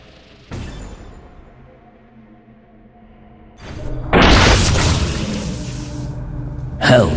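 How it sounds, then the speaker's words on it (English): Mana-boosted weapon shots in the PC game Infernal, a thudding impact followed by a loud roaring explosive blast that sustains and fades, then another burst at the end. "Use your mana to boost the power of your shots."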